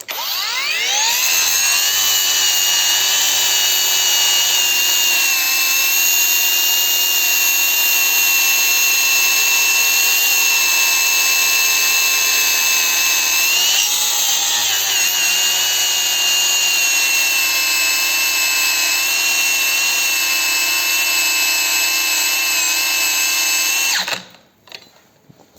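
A battery angle grinder on a TPCELL 4Ah battery with Tenpower INR21700-40XG tabless cells whines loudly and steadily for a long stretch, dipping briefly midway as its protection cuts in, then spins down and stops.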